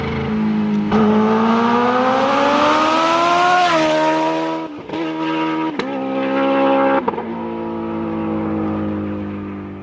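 A sports bike or super naked motorcycle engine revs loudly and accelerates up through the gears on a road, pitch rising steadily then dropping at each shift, close and continuous with no talking.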